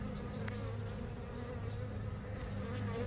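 Honeybees buzzing around an open hive during an inspection, with a continuous, even drone from many insects close by and no voices over it.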